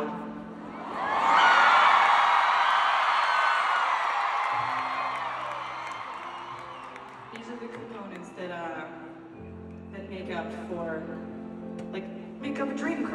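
A huge stadium crowd at a singer's Eras Tour in Melbourne roars and screams loudly for several seconds. The cheering then fades under someone speaking over a microphone, with the crowd swelling again between her phrases.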